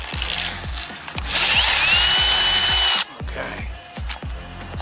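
A sharp drill bit bores into metal, a loud high grinding whine that rises for about two seconds then cuts out, over a steady ticking ratchet-like mechanical rhythm nearby.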